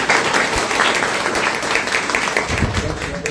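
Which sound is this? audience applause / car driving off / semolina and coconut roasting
audience applause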